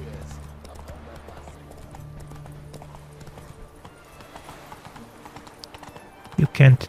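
Geralt's horse Roach in The Witcher 3 game clip-clops at a steady walking rhythm under continuous talking, with a louder burst of sound near the end.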